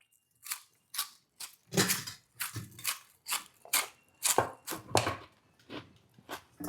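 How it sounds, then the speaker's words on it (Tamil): Sharp, dry crunches from someone biting and chewing fried vadagam, a crisp sun-dried fritter, about a dozen distinct close bites in an irregular rhythm with brief pauses between them, no talking. "அந்த வடகத்தை திங்கும்போது கருத்து முறுக்குன்னு சவுண்டு வரும்"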